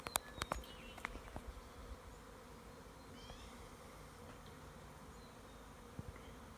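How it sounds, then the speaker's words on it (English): A huge honey bee swarm makes a faint, continuous buzzing drone with a few brief louder passes of individual bees near the microphone, outdoors with no talking. "Look at all these bees everywhere."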